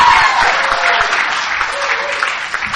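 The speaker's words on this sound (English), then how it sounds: "Oh, clap. Why not?" Steady applause from the audience at an Alcoholics Anonymous speaker meeting, a dense crowd of clapping hands heard throughout and easing slightly toward the end.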